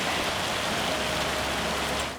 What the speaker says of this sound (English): It's supposed to stop raining by 2 o'clock in the afternoon.